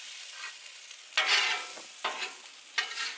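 Philly cheesesteak bread sizzles on a hot griddle just after being flipped, the sizzle swelling in three sharp bursts over a steady background hiss, close and fairly loud.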